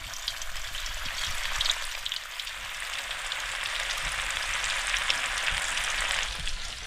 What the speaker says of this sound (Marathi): तर हा केला रव्यामध्ये कोट आणि हा सोडला तव्यावर